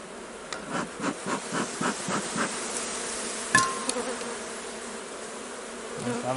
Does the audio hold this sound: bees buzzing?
yes